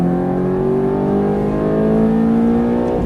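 A Ferrari F430 engine accelerates under throttle on a race track, a loud, steady, rising howl that climbs smoothly in pitch for the whole stretch, with no voices over it.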